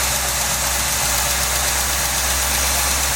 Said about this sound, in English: It sort of sounds like it's got a lifter clatter, but I think it might be that air pump.